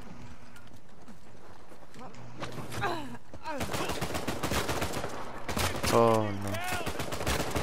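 Gunfire crackles in the co-op video game Uncharted 4 as sharp, scattered shots and bursts ring out while players talk and exclaim over the action.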